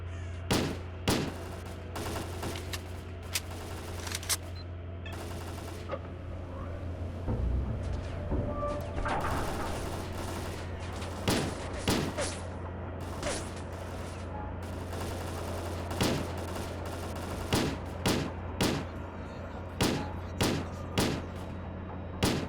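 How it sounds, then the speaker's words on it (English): Gunfire in the video game STALKER: Clear Sky: repeated sharp shots and short bursts crackle irregularly over a steady low hum, some shots near and loud, others more distant. "Stop shooting me. I'll shoot back."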